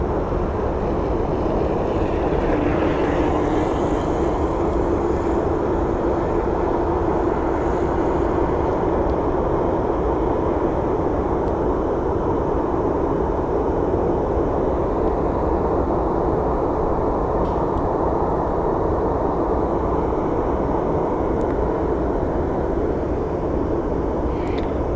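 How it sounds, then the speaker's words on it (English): A passenger airliner bound for Midway moves at Phoenix Sky Harbor International Airport, giving a steady, loud, low jet-engine rumble and roar that carries unbroken with no talk. "And this plane is headed to Midway."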